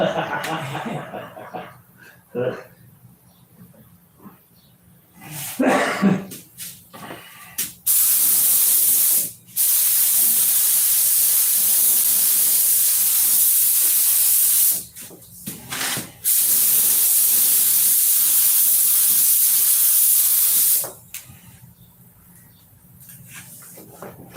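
A spray gun applies coating in long, loud, steady hissing bursts separated by brief pauses, with voices and background sounds between sprays.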